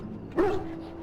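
A single short bark or yip from a hound in the fantasy video game Dragon Age: Origins, over a low steady hum.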